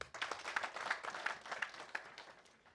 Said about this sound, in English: So for that, let's give them a clap.